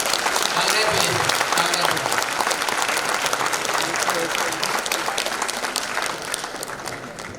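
Sustained, dense audience applause at a medical postgraduate convocation and lamp lighting ceremony, loud and steady throughout before easing slightly at the end.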